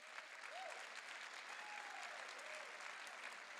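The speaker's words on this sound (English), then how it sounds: "Can we give them a huge hand of applause?" An audience at a Lawrence city council meeting claps in sustained applause, a soft, steady patter that sounds faint and somewhat distant for the whole stretch.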